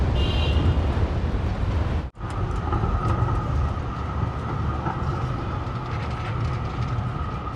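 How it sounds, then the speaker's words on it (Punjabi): A tram arrives at a Melbourne tram station near the harbour, its steady rumble and a sustained electric whine rising over platform ambience, close and fairly loud, with one brief dropout. "ਇੱਥੇ ਟ੍ਰੈਮ ਆਉਣੀ ਹੈ ਜਿਹਦੇ ਤੇ ਅਸੀਂ ਜਾਣਾ ਸਿਟੀ ਨੂੰ"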